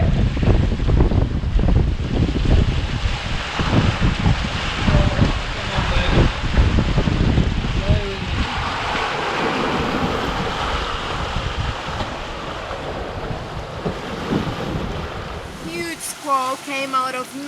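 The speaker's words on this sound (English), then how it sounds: "We got wind!" Strong wind roars and buffets the microphone over rushing water and surf on a sailboat during a storm at sea, with voices shouting intermittently through the gusts.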